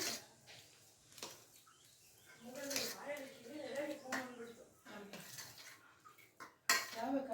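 A pan of kesari bath is levelled with a utensil and covered with a plate, giving scattered clinks and scrapes of metal under a woman's speech, with a sharper clatter near the end.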